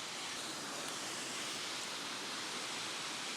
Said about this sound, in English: I love watching the water cascade down.